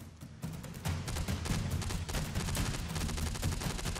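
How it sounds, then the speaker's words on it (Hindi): Sustained gunfire rolling and echoing across a valley during a security forces' encounter with militants hiding in a cave in south Kashmir's Tral area, dense overlapping reports at a distance. "गोलियों की आवाज से पूरी घाटी गूंज रही है।"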